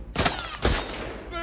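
Two quick, muffled bursts of gunfire come through a wall in The Last of Us Part 2, moderately loud and close together, followed by a fading tail.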